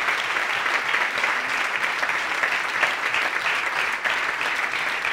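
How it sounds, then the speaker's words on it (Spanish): A church congregation claps together in steady, dense applause that stays loud and continuous throughout, with a faint crowd murmur beneath. "¿Puedes darle un aplauso al Señor?"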